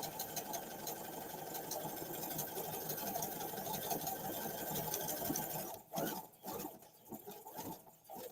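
A sewing machine stitches fabric for a Dollar Tree DIY project, running in a close, steady whirring patter for several seconds and then slowing into short stop-start bursts with no talk.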